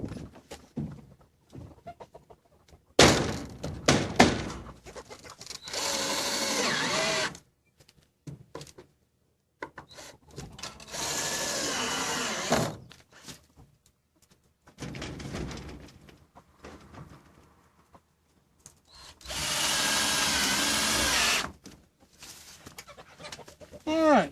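A power drill drives screws into a home-built greenhouse window frame, three long, loud whirring bursts of several seconds each, separated by quiet stretches with faint handling noise.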